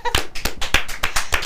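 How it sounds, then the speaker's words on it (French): Quick sharp claps ring out in a steady rhythm, about eight close hand claps in a short burst with faint background noise. "Oh là, c'est beau, ça s'applaudit."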